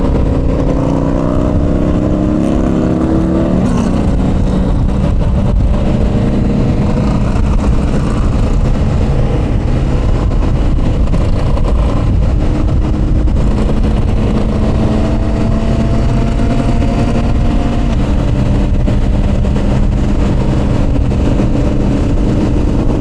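A Harley-Davidson motorcycle cruising on a highway, a steady loud engine drone with shifting harmonics as the rider holds speed, wind rush blending in throughout.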